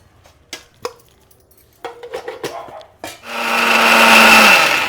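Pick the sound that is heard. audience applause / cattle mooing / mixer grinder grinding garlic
mixer grinder grinding garlic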